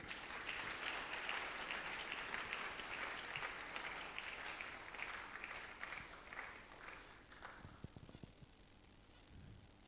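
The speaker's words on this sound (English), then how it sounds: "Please, a better applause." An audience at a school's sesquicentennial lecture and panel discussion applauds in a steady, full roar of clapping that lasts about eight seconds, then thins and trails off with a few scattered claps and faint sounds from the room.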